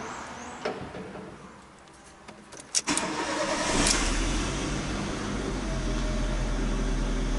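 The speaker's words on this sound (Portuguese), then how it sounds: "Leituras, vamos ligar o carro." A Fiat Uno Fire with misfiring, poor timing and a lit injection warning lamp is cranked and its engine catches, settling into a loud, steady idle close by after some preceding clicks and handling noises.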